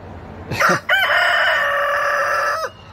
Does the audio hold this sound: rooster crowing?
yes